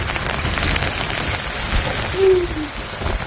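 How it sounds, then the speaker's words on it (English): Heavy rain and gusting wind from Tropical Storm Ophelia on the eastern North Carolina coast beside a river, a steady loud hiss of downpour and blowing air with no voices. "So this would be the worst of the storm for about the next 30 minutes to an hour."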